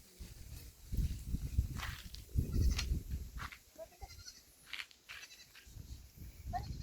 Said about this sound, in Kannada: ನೋಡಿ ಮೇಕೆಗಳು ಹೆಂಗೆ ಹೋಗ್ತವೆ.